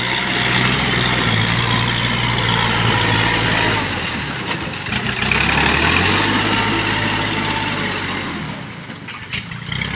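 A Kubota L3608 tractor engine runs steadily nearby with a low diesel rumble that dips briefly and then picks back up, continuous throughout with no talk.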